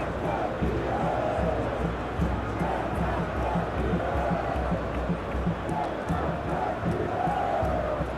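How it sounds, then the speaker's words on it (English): A capacity stadium crowd roars and cheers steadily in a PES football video game before a Brazil versus France World Cup final, a dense continuous wash of noise with no breaks. "A capacity crowd here."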